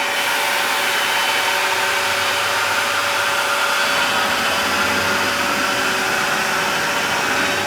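Onefinity Journeyman CNC machine travelling back to its home position, a steady broadband motor whine with a faint tonal hum, running loud and unbroken throughout.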